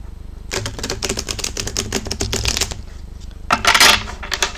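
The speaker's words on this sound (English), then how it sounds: "while I shuffle the cards for you" Tarot cards being shuffled, with a rapid riffling burst of crisp flicks, a short pause, then a second louder riffle, close and clear with no talking.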